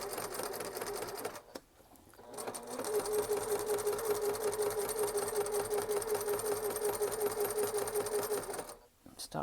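A sewing machine stitches thick thread along a wavy line on a felted greeting card, a loud steady mechanical whir that starts, pauses briefly, then runs continuously for several seconds before stopping.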